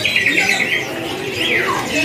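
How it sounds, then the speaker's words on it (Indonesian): Zebra finches at a bird kiosk give rapid high chirps and squawks, including a downward-sliding call, close and continuous against busy background noise. "seperti ini kan kawan pilihan burung jebrapin yang tersedia di kios"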